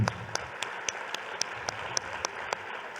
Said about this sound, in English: let's just give them all one more round of applause